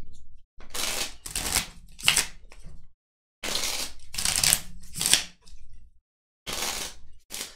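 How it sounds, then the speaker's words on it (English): A deck of KeyForge cards is riffle-shuffled by hand in several crisp, rapid bursts separated by short pauses, close and clear with no talking. "Just give it a quick shuffle."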